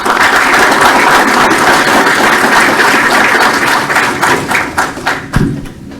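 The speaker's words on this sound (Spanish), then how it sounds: "Un fuerte aplauso." Audience applause welcoming an engineer at an evening renewable-energy talk, loud dense clapping with thumps that thins out and fades near the end.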